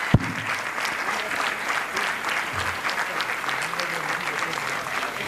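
A conference hall audience at a mega conference for CA students claps steadily in a dense, continuous round of applause that holds at an even level throughout, with a sharp knock near the start and faint voices mixed in.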